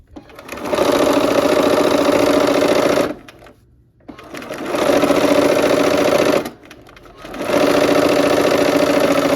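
A sewing machine stitches a seam on a barn quilt windmill block in three loud, close bursts of rapid needle chatter, each separated by a short pause, with no talking.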